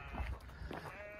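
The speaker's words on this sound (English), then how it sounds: "there's all sorts of sheep" Sheep bleat on open farmland beside diverted water channels, a few short bleats close by over steady outdoor background noise.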